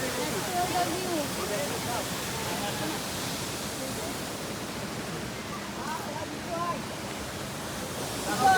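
Water at a lagoon inside Mawsmai Cave in Meghalaya makes a constant broadband wash, a steady rushing hiss that stays even throughout, with faint voices in the background.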